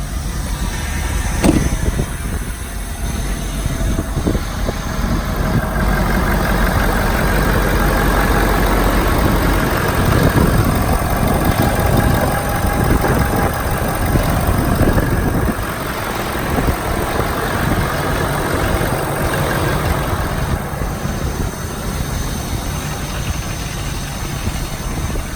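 A truck engine idles steadily and close after being started, rumbling with a low, even knocking vibration that holds for about twenty-five seconds, with no talking.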